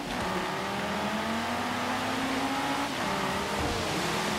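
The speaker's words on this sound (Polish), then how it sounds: "Ależ to Audi fajnie brzmi, słuchajcie." An Audi's engine revs in the racing game Forza Horizon 3, a loud, sustained engine drone rising steadily in pitch, then dropping slightly, with no talk over it.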